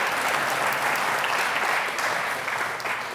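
Audience applause at a community awards ceremony, sustained and dense, filling the room evenly at steady loudness, with a slight fade near the end.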